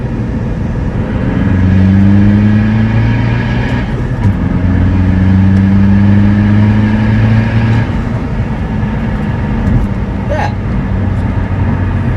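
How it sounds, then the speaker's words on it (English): A car engine with an aftermarket exhaust drones steadily while driving, with two rising pulls as the revs climb and settle, heard from inside the cabin. "the exhaust sounds very nice"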